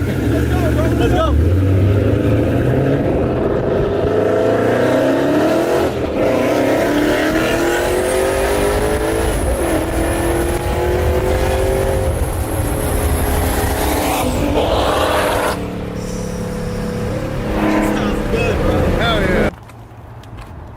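Engines of a Mustang GT and a Camaro SS scream under hard acceleration in a street race, a loud sustained roar with rising and falling pitch as the cars rev and pass, fading slightly near the end.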